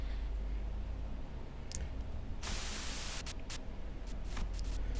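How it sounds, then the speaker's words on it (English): A truck radio in the Limbus Company video game crackles with hissing white-noise static, steady and fairly faint, broken by sharper bursts of broadband noise and clicks. "A sudden buzz of white noise breaks through the truck's silence."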